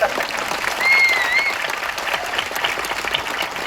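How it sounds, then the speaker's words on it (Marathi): Sustained theatre audience applause following a stage introduction of a Marathi play's performers, dense and steady clapping throughout with a brief whistle near the start. "एका जोरदार टाळ्या आपल्या शंकर जयकिशनच्या जोडीसाठी."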